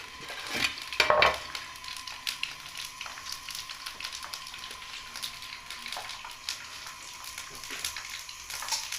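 Whole Lahori chicken chargha fries in hot oil, giving a steady, moderately loud hiss and crackle, with a brief louder splatter near the start and no talk.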